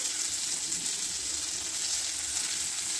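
Chopped tomatoes sizzle and fry in a hot pan while cooking a dry fish curry, a steady close hiss of bubbling oil without pauses or voices.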